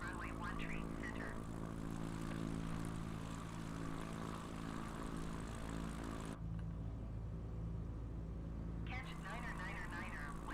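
A propeller airplane taking off in a flight simulator game, with a steady loud droning engine hum that holds throughout, while a voice talks over it.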